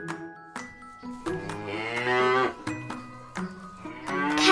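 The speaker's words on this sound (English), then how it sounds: "I'm a cow." Farm cattle moo in several drawn-out, close calls separated by short pauses, sounding alone with no talking.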